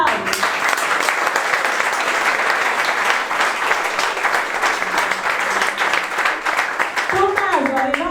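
A crowd at an end-of-summer-camp music show applauds with loud, dense, sustained clapping that fills the space, fading out near the end.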